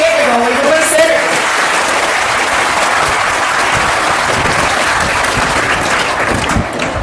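An audience at a Tamil speaking event claps together in a loud, continuous wash of applause that holds steady throughout, with a voice faintly audible at the start.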